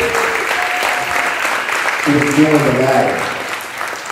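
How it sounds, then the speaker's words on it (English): At a video premiere an audience applauds young people in a steady, fairly loud wash of clapping while someone speaks over it and a sung or held voice briefly rises through the middle. "Give these young people a round of applause"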